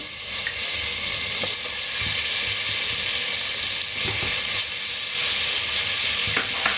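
Chopped garlic frying in hot oil for a mutton korma sizzles with a steady, close crackle that holds level throughout, with a few faint clicks of stirring on top and no voices.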